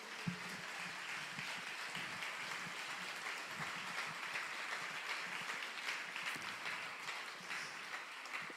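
Church congregation applauding for the Holy Spirit, a steady, dense wash of clapping that holds evenly throughout, moderately distant and fairly soft.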